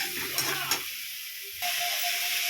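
Cumin, chili, turmeric and coriander powders sautéing in a pan: a steady close sizzle with stirring scrapes, briefly quieter midway before the frying hiss resumes.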